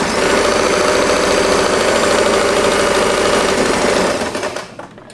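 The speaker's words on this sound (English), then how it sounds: "and we are going to sew this part." A sewing machine runs continuously up close, stitching a seam along folded fabric for a small bow, a loud even motor hum and needle chatter lasting about four seconds before winding down.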